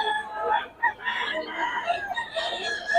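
Pure golden boy gamefowl roosters at the Bocaue market crow and cluck in a close, continuous, overlapping chorus lasting about three seconds, with no talk.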